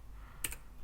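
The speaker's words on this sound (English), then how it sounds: "now I'm using VI keys on my keyboard." A single quick keystroke tapped on a computer keyboard during setup of a FreeBSD desktop on a 10th-gen Intel NUC, faint and isolated against a quiet background.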